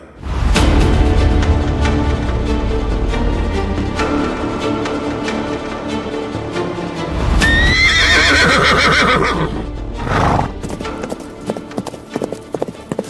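Galloping horse hoofbeats in a dense, rhythmic clip-clop, joined midway by a loud, shrill neigh, all set in a forest scene from a Mahabharata tale of a warrior riding toward the Kurukshetra battlefield, with dramatic music underneath.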